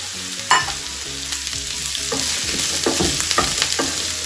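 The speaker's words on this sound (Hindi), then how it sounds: "दो से तीन मिनट इसको हम भून लेंगे।" Chopped vegetables for hakka noodles stir-fry in a hot pan, giving a steady close sizzle broken by repeated scraping and tossing strokes, with no talking.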